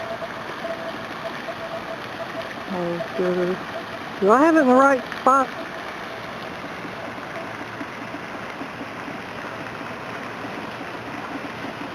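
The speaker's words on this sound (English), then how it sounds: "we're moving in on this waterfall here" A waterfall gives off a steady broadband rush in the background, moderately loud and constant, while a person speaks briefly over it.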